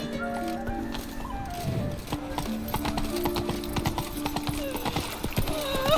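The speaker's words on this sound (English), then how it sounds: "Run, Roach." Galloping horse in The Witcher 3: Wild Hunt, rapid rhythmic hoofbeats drumming steadily throughout, close and clear, with a brief soft whinny and background game sounds.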